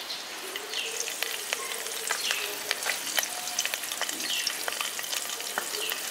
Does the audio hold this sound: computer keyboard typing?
no